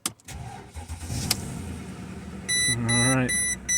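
A 2007 Mercedes S550 with misfire and rough-running faults cranks over: a brief starter whir with rising tonal sweeps, mixed with steady electronic warning chimes and beeps from the dash, close and moderately loud.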